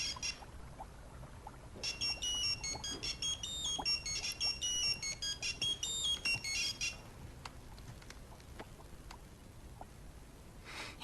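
An electronic phone ringtone plays a repeating melodic pattern for several seconds, then stops, leaving a quiet room with faint clicks before a brief sound at the end.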